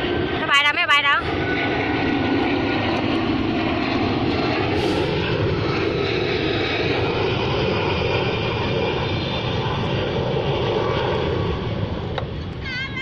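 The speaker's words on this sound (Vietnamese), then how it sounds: "Máy bay đâu con, máy bay đâu" An airplane passes overhead with a sustained, loud engine roar that holds steady before easing slightly, while a voice speaks briefly near the start.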